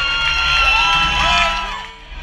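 A concert crowd of reggaeton fans cheers and shouts loudly, with whoops rising and falling throughout a short, dense burst of noise close by.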